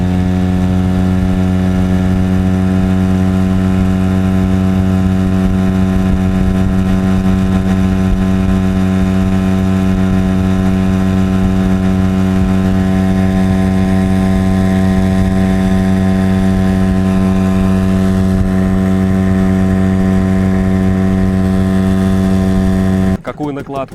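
An outboard motor drives an Admiral 320 inflatable boat downstream, humming steadily and loud with strong even harmonics throughout, cutting off abruptly at the very end.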